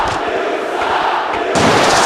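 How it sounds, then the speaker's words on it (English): Arena crowd at a wrestling show in Broadfield, Detroit, Michigan, a loud sustained roar of massed voices that swells louder near the end. "And listen to the crowd here."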